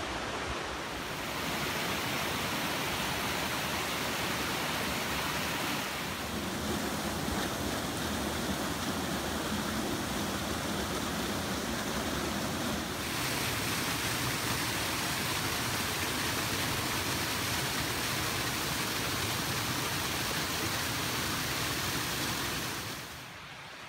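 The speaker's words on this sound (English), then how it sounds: "A little side trip to the 20-mile Creek Cascades." Twenty Mile Creek Cascades in the Great Smoky Mountains, a steady broadband rush of tumbling water, loud and close, continuous throughout with no voices.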